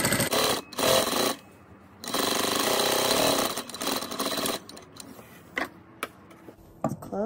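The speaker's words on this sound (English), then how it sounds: "I'm just going to top stitch all the way along the bottom." A sewing machine top stitches along the bottom of a pleated fabric face mask, running in loud, close bursts of rapid stitching separated by short pauses.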